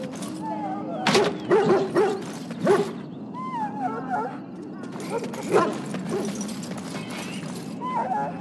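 Dog barking mixed with yips and whimpers from hounds being readied for battle in a Dragon Age video game, with several barks close by early on and softer whining afterward.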